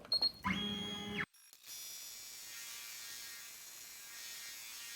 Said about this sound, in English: Now we will sew the satin stitching.